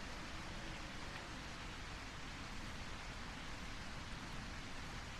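Steady, dense rain hiss fills the scene in the video game A Quiet Place: The Road Ahead, an unbroken wash of falling water at constant loudness with no voices over it.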